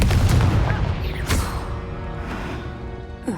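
Explosive blast from the Confringo spell in Hogwarts Legacy, a heavy booming burst up front followed by crackling magical effects and lighter bangs fading away.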